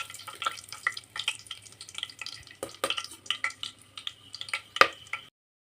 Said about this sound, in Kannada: ಈಗ ಎಣ್ಣೆ ಬಿಸಿಯಾಗಿದೆ. ಇದಕ್ಕೆ ಚಕ್ಕೆ, ಲವಂಗ, ಏಲಕ್ಕಿ ಹಾಕ್ಕೊತಾ ಇದ್ದೀನಿ,